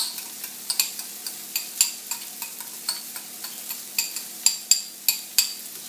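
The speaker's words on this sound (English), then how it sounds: "Now you want to add some garlic and onion" Garlic and onion sizzle softly in a pan for Marsala chicken, with a faint steady hiss under a series of crisp, regular utensil clicks and taps as the mixture is stirred.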